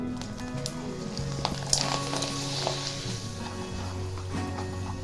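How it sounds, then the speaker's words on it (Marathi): Rice flour handi papad frying in hot oil, a steady close sizzle and bubbling with scattered crackles throughout, no talk. "आता तेल तापलेलं आहे मी तुम्हाला तळून पण दाखवणार आहे"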